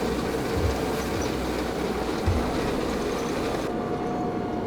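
A train in the tank combat game GHPC rumbles steadily with low clattering and a faint high squeal, a continuous mid-distance roll that fills the whole stretch without voices.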